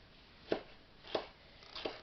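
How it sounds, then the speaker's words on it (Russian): Three crisp knife strikes through bell pepper on a cutting board at a steady, unhurried pace, close and clear against a quiet background. "Также крупно нарезаем перец"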